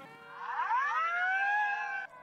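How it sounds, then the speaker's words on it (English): A single siren wail sweeps upward and holds a loud, steady tone for about two seconds before cutting off abruptly. "Siren?"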